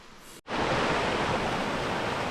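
The Hoh River runs in steady, loud, broadband rushing beside a foggy campsite in Olympic National Park, with a brief break at the start before the continuous flow.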